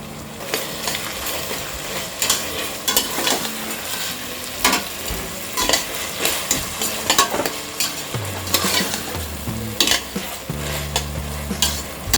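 Finely chopped tomatoes added to softened onions frying in a pan for spicy Mumbai misal pav, giving a steady sizzle with repeated stirring clatters and scraping of a utensil against the pan.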